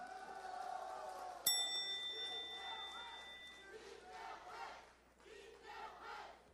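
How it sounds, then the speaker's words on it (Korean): A crowd at a Democratic United Party presidential primary rally in Gwangju in 2012 breaks into loud cheering and shouting with a sudden onset, then keeps up a swelling, uneven roar of many voices. "여러분 격려와 힘찬 용기의 박수를 쳐주시기"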